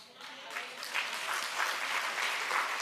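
Audience applause rising in a steady patter of many hands, fairly soft and distant, building slightly over the short stretch at a testimony event.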